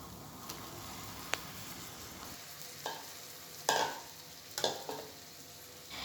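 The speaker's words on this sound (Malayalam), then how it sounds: "മട്ടൻ ചേർത്ത് കൊടുത്തതിന് ശേഷം മസാലകളും മട്ടനും എല്ലാം ഒന്ന് നന്നായിട്ട് കൂട്ടി യോജിപ്പിച്ചെടുക്കാം" Cooked mutton and masala being stirred together in a pan: a faint, low sizzle runs underneath while a spoon scrapes and taps against the pan in a few separate strokes.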